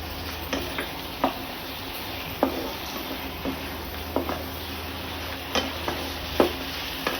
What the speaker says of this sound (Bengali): সয়া সস আর গোলমরিচ গুঁড়ো সব ভালোভাবে মিক্স